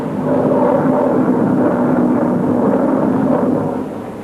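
Military planes from a 1943 wartime scene pass overhead as a loud, steady, broadband roar that holds for about four seconds and then begins to fade.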